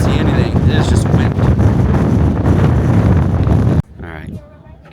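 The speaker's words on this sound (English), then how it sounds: "It is just wind." Strong wind buffets the microphone on a foggy coast at Point Reyes as a loud, rushing roar. It cuts off abruptly near the end, leaving quieter sound with a voice speaking.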